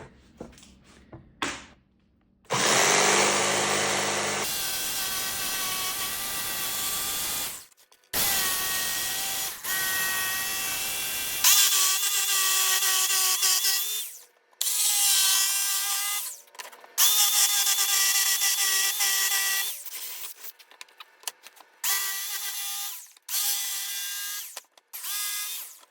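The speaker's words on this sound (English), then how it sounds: "let's cut this out with a jigsaw" Jigsaw cutting a wooden jig for bending recurve bow limbs, loud buzzing bursts of sawing with brief stops and restarts, close up and without speech.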